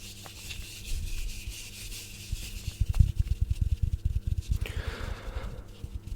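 A small plastic toy Pokeball is rubbed and scraped nearby, a soft continuous scuffing that turns into quicker rhythmic rubbing strokes.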